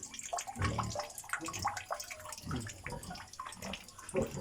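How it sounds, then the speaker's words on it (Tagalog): Water pouring steadily into a storage drum, a continuous splashing gush with gurgling bursts, close and fairly quiet, with no voices. "nag-iimbak ng tubig sa drum"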